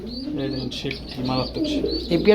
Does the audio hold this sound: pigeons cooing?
yes